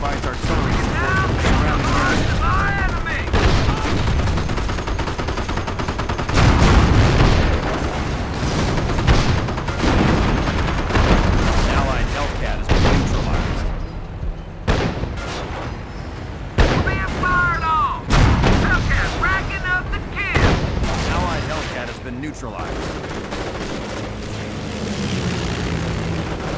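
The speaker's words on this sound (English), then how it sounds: "Bunker provides artillery support." Company of Heroes battle din: repeated artillery booms and bursts of gunfire crack across a busy war scene, loud and dense throughout, with aircraft drone underneath and voices calling out between the blasts.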